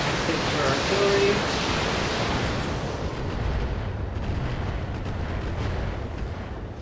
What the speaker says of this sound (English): Take our artillery.